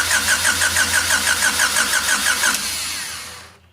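A car engine, fitted with a freshly installed EF motor and a swapped firing order, cranks steadily on its first start attempt without firing, a rapid even starter rhythm for about two and a half seconds before winding down.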